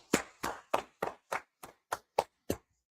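Nine sharp hand claps in a steady, even rhythm, close and clear, with silence between each clap.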